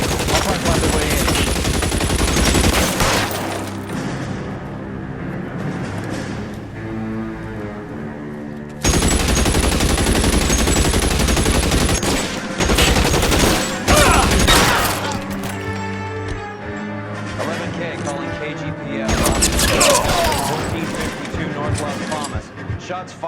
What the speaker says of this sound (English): Shots fired and officers need help at 1452.